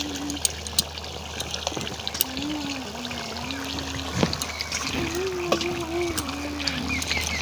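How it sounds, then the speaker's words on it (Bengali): Fried potatoes go into a pot of village-style chicken curry with a wet, splashing pour and soft sloshing, close and steady, while someone talks in the background. "আমি এবার ভেজে রাখা আলুগুলো দিয়ে দিচ্ছি।"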